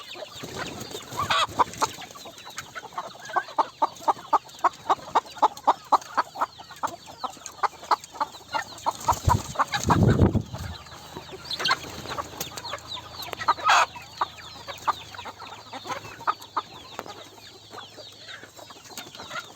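Free-range village chickens clucking inside a small thatched farm shed, a steady run of short repeated clucks from several birds close by, with a brief louder burst of noise partway through.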